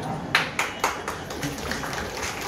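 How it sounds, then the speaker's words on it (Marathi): At a kirtan gathering, an audience gives three or four sharp, fairly close claps, then a few softer scattered ones trail off. "तुम्ही काय टाळ्या वाजू राहिले"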